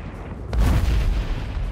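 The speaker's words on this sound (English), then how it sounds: "Oh, there's another explosion." A volcano erupts in the Fortnite video game with a deep, rumbling boom that swells suddenly and rolls on briefly over low background noise.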